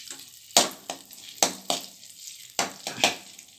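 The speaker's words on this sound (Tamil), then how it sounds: "கொஞ்சம் வெண்ணெய் கொஞ்சம் உருகட்டும்." Butter melting and sizzling in a pan for pav bhaji, heard close up as a series of sharp crackling bursts, like stirring or spattering, every half second or so.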